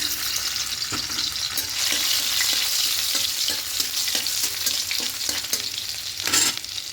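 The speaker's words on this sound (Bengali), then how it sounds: "এবার তেলের মধ্যে দেব রসুন থেতো" Crushed garlic sizzling in hot oil in a kadai, a steady close frying hiss broken by light taps and scrapes of stirring.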